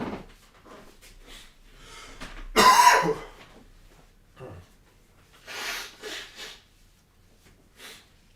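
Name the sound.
person blowing their nose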